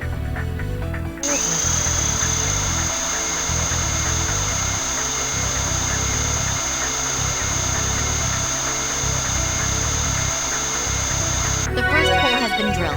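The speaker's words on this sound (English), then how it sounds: "First, I'll need to drill holes into the bone for the screws to go into." A surgical drill bores into a humerus bone in the game Trauma Team. It gives a steady, high, piercing whine for about ten seconds over a pulsing low hum, starting and stopping abruptly.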